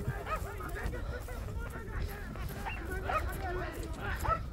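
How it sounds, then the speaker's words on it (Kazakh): A dog barks and yips repeatedly amid a noisy outdoor village horseback game crowd, fairly faint under a constant wash of voices and shouting. "Әрбір тойға барсаң бір ит аразында жүреді да ушинтип"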